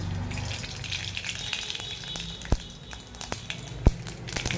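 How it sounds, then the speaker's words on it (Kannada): Mustard seeds crackle and sizzle in hot sesame oil in a home kitchen pan, a steady frying hiss with a few sharp pops standing out near the end. "ಎಣ್ಣೆ ಬಿಸಿಯಾಗಿದೆ, ಸಾಸಿವೆ ಹಾಕ್ತೀನಿ"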